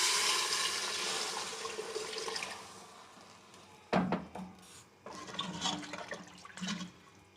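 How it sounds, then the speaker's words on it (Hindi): Water is poured into a pressure cooker of browned spices and meat for beef hareesa, a steady splashing stream for about four seconds, followed by quieter pours and stirring splashes. "मैं अब इसमें डालूंगी 1 लीटर पानी"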